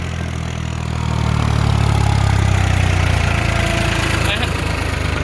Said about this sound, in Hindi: ट्रैक्टर काफ़ी दबाव में चल रहा।